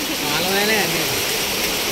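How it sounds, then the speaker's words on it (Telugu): Strong water rushes steadily through a flooded canal during heavy flooding in Manikonda, a loud broadband roar with no breaks, while a voice talks faintly underneath. "అది కాలువ, కరెక్టే, కాలువనే, ప్రవాహం."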